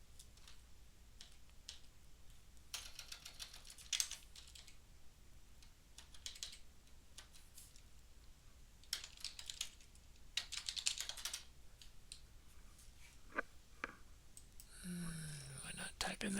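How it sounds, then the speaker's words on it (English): Someone types a password on a computer keyboard in quick, faint bursts of key clicks with pauses between them, followed by a short spoken word at the end. "Why not type in that password right?"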